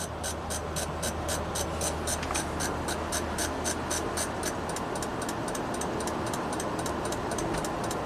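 Rapid, steady clicking from a Toyota dashboard, a regular ticking pulse over a low engine hum inside the car, with the tempo shifting slightly as the throttle rises.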